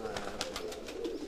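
Tsarouchlidika pigeons, a Thessaloniki breed, coo in a soft, steady series of low rolling calls, close by and fairly faint, with no talk over them.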